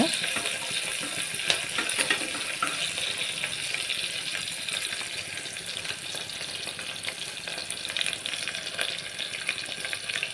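Ginger garlic paste sizzles and fries in hot oil in a pan, a continuous bright crackling hiss lasting throughout at a steady, close level.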